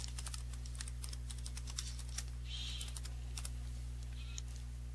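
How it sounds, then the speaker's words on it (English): Typing on a computer keyboard to enter a template name in CorelDRAW, a steady patter of close, light key clicks over a constant low hum with no talk. "I'm going to type a name"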